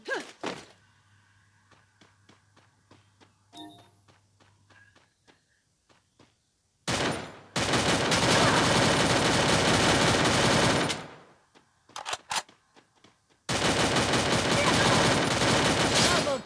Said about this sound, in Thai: ฟังเสียงปืนก่อน